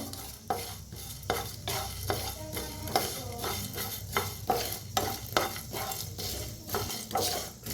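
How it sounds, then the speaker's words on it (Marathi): Whole spices are dry-roasted for sambar in a pan, stirred with rhythmic, scraping strokes and rattling grains, close and fairly loud throughout. "खडं मसाला घेतलेला बघा सगळं भाजून घेऊया तर सगळं मिक्स करूनच भाजूया"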